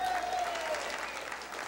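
Applause from a large conservative audience at a political rally fills the short stretch, a dense steady wash of clapping with a faint whistle sliding down near the start.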